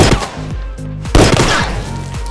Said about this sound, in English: After several gunshots, the yard fell silent.